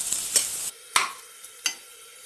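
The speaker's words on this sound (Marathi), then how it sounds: "आता मी यात थोडा एक अर्धा चमचा हिंग टाकते. आता व्यवस्थित हे परतते." Onion and garlic sautéing with asafoetida in a pan, heard as a few separate scraping stirs with brief sizzle bursts between quieter gaps.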